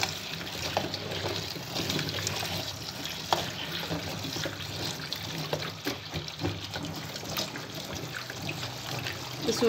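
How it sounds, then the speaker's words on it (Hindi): Tap water runs steadily while lasoda berries are rinsed for pickle, a continuous splashing stream with small clatters and trickles. "तो सबसे पहले हमने जो है इन लसूड़ों को धोना है, धोकर हमने इनको बॉयल करना है।"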